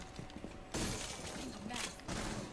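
A stun grenade goes off in a tactical shooter match, a sharp broadband burst followed by a second blast a moment later, loud against a busy backdrop of game noise and faint voices.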